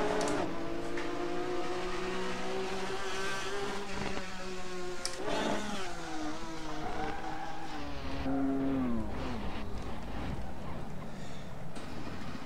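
Engine of a car in a video game car mod, revving and shifting through rising and falling tones over a constant buzzing drone, steady and loud throughout.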